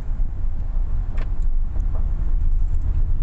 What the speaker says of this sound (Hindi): व्हीकल को स्पोर्ट्स मोड में डाल के व्हीकल को चलाते हैं